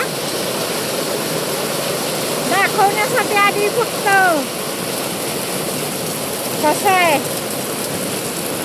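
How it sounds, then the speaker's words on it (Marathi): Heavy rain pours down steadily in a broad, even wash close by, while someone talks over it throughout. "काय पाऊस आहे."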